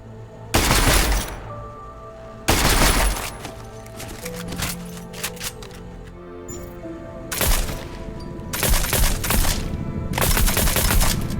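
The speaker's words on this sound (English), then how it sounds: "You can set up your shotgun for stealth and go covert, or simply brute force your way, letting loose as many shots as you can carry." Shotgun blasts in a first-person shooter video game: loud, heavy booming shots spaced a couple of seconds apart, with gunfire and clatter between them and a final cluster of rapid shots.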